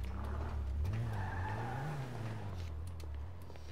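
A car in a role-play driving video game pulls out and moves off, its engine droning with a rising and falling pitch and some tire scrubbing, steady and fairly close with no talk.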